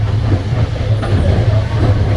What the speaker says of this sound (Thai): รถไฟก็เริ่มออก